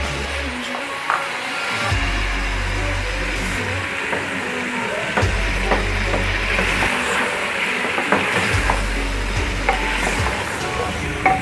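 Chopped onions sizzle steadily in a hot pan for chicken and capsicum curry, with repeated scraping stirs and clinks of the spoon over a constant frying hiss and a low recurring hum.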